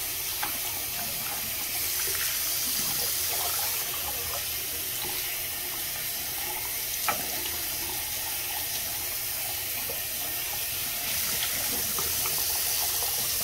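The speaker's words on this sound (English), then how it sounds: "couple times until the water runs completely clear" A Bissell PowerForce Helix vacuum filter is rinsed under a running tap, giving a steady, moderate gush of water that continues evenly with small splashes throughout.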